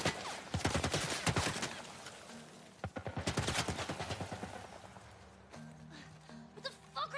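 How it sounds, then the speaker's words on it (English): A military turret firing in the video game The Last of Us Part I, with loud rapid bursts of automatic fire, a short lull, another long burst, then scattered quieter shots over a low hum with faint voices. "What the fuck are they shooting at us with? Some kind of military turret."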